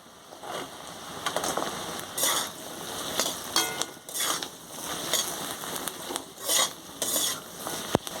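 Onion, carrot, beans, potato and capsicum stir-fry over high gas for chow mein: repeated bursts of loud sizzling and utensil scraping come in uneven waves, with a sharp metallic tap near the end.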